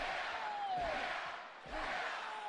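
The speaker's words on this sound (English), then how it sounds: "the yeah chants echoing throughout the KFC Yum Center tonight" An arena crowd at the KFC Yum Center chants "yeah" in loud, rising waves during a live WWE SmackDown wrestling broadcast, a broad wall of massed voices swelling and dipping.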